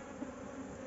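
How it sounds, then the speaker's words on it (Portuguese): Bees swarming in a tire hive make a brief, steady buzzing drone, close and constant with a slight flutter, alone without voices. "Tem abelha pra caramba aí."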